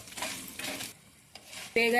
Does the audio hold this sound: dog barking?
no